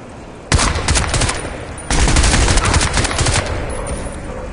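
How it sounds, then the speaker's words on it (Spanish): Heavy machine gun fire in the Crysis 2 video game: two loud, sustained bursts of rapid automatic shots, the second longer and rolling on with echo, over a steady background rumble. "Eso era una ametralladora pesada."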